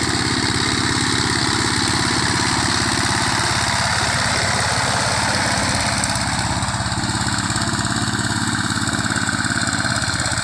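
Power tiller engine running steadily while cultivating village farmland, a loud continuous chugging drone that holds near and even throughout with no talk over it.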